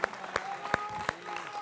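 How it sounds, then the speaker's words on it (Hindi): A studio audience on a televised Indian political debate show claps several times, sharp separate claps under a faint hum and soft voices, fairly quiet and brief. "जोरदार तालियों के साथ"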